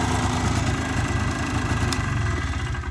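A 1987 Polaris Trail Boss 4x4 ATV engine idles loudly and steadily with a rough, throbbing mid-pitched rumble, close by and constant throughout.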